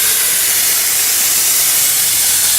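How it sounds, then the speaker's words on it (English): Steady, loud hiss of steam escaping from a steam boiler valve at roughly 50 pounds pressure, broadband and continuous with no pauses, heard alone and close. "You can hear it hissing."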